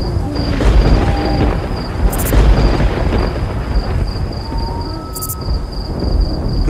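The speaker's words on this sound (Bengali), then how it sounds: "বলতে বলতেই ঝড় উঠলো, বৃষ্টি শুরু হলো" A thunderstorm with heavy rain: a continuous loud downpour roars throughout while deep thunder rumbles build and roll beneath it, with no voices present.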